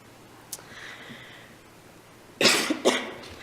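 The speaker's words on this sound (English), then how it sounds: "I always start coughing when I'm up here." A person coughs several times in quick succession in a council meeting room, the harsh bursts loud and close after a faint earlier throat sound.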